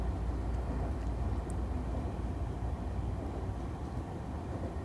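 A Sotetsu 11000 series train rumbles along the Sotetsu Main Line on a surface section, a steady loud broadband roar of wheels and running noise heard from on board, with no talk.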